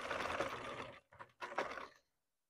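A sewing machine stitches a dress hem in a bedroom, running in a steady whir for about a second, pausing briefly, then two short close bursts before stopping.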